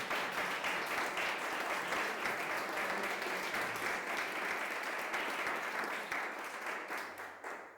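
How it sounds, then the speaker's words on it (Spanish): A church congregation at a Christian baptism service applauds steadily, a dense, loud wash of many hands clapping that holds for the whole stretch and tapers slightly near the end. "Dale ese aplauso al Señor."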